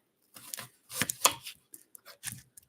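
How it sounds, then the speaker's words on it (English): A knife chops an onion on a cutting board in a home kitchen, a handful of close, crisp, irregular chops separated by short pauses. "All right, chopping this onion up."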